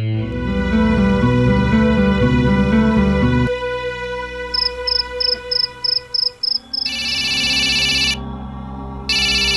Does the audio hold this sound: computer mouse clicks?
no